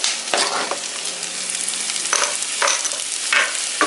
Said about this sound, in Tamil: ஒரு 2-3 நிமிஷம் இப்போ நம்ம இந்த உப்பு போட்டு பெசரி வச்ச கிழங்கு வந்து இதில் ஆட் பண்ணிக்கலாம்.